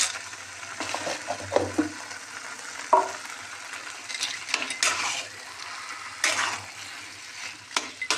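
Peanuts fry and are stirred in a pan for vegetable pakora, giving a soft, continuous sizzle broken by a metal utensil scraping and clinking against the pan at irregular moments.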